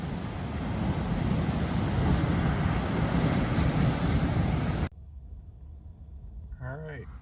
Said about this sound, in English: I wanted you to hear these waves, how hard they're crashing